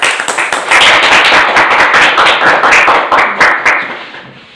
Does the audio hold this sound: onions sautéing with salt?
no